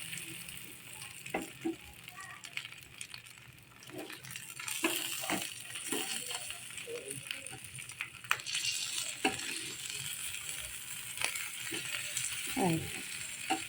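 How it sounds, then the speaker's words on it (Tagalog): Chicken pieces grilling over heat, giving a soft steady sizzle with scattered pops and light scraping or turning sounds, fairly quiet throughout. "Yan, iniihaw na natin. Hintayin natin maluto."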